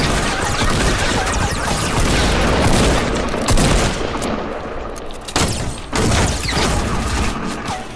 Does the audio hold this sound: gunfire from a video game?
yes